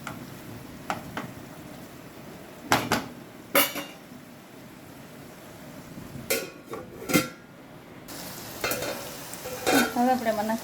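Ground ginger and garlic frying in a pan for a fenugreek curry, a quiet sizzle punctuated by irregular loud metallic spoon scrapes and clanks against the pan, with the frying growing louder near the end.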